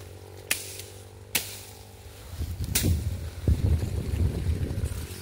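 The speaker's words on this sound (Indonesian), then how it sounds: "Anginnya kencang nih." Strong wind gusting through a coffee garden intercropped with durian and avocado, buffeting the microphone in rising rumbling waves after a couple of sharp knocks.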